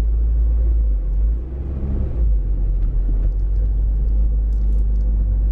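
Car crawling through thick white sand on a forest road, a loud steady low engine and tyre rumble close in the cabin, continuous and unbroken, with no voices.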